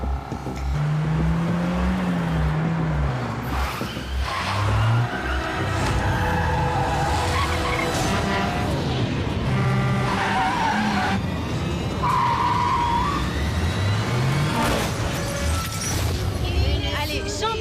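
A car accelerates hard with engine whine rising and falling, tires squealing and skidding repeatedly, while voices talk over the action.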